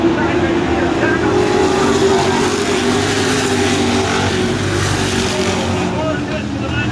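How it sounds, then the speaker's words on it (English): Race trucks roaring around a track under green-flag racing, a dense continuous engine drone close and loud throughout, with an announcer talking over it. "Green flag racing"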